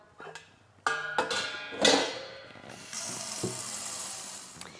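Berkey water filter parts and lid are hand-washed in soapy, sudsy water with a non-abrasive scrubber, giving close splashing, sloshing and clattering that starts softly, then grows into steady wet scrubbing.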